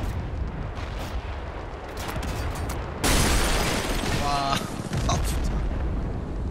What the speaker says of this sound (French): c'était son missile anti-char qui a été tiré